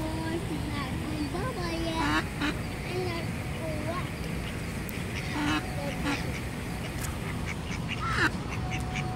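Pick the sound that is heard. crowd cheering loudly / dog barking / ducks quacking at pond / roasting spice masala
ducks quacking at pond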